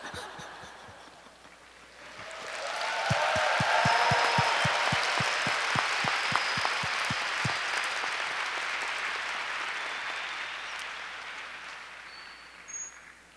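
A church audience applauds together, loud sustained clapping that swells in and slowly fades, with sharp individual claps audible near the start.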